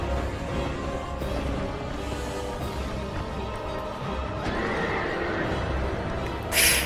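A horse whinnies in Dark Souls 2 over a dense, steady background din, with hoof clip-clops and a sharp burst of noise near the end.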